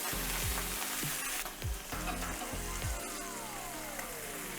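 Braciole frying and browning in a hot pan give a steady, loud sizzle with a few soft thumps and clatters as the pieces are turned.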